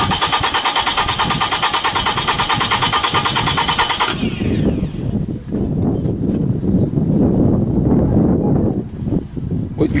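Car starter motor cranking an engine with a rapid high whirring chatter for about four seconds before the engine catches and settles into a loud, close, rumbling run.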